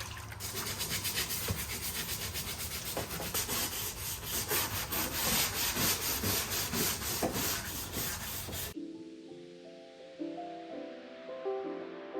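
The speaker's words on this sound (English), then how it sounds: "And then I began sanding the entire buffet down" Steady abrasive electric sanding rasps against an antique wooden buffet for several seconds, loud and continuous, then cuts off abruptly as soft music takes over.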